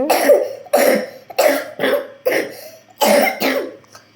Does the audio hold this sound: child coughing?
yes